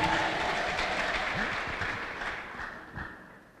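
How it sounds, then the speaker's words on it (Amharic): A church congregation applauds and ululates in praise during a worship service. The sound is a dense, steady wash of clapping and trilling voices that fades gradually toward the end. "እልልታ ጥብጣባ ለኢየሱስ ክብር"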